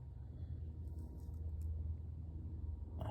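A 1986 Porsche 944 engine idling, a steady low rumble heard nearby and fairly quiet throughout, with a brief metallic clink near the end and no talking.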